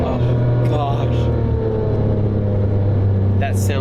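Twin-turbo engine of an older Porsche 959 supercar driving on open road, a loud steady low rumble with a sustained drone throughout, close and continuous, with brief higher whooshes near the end.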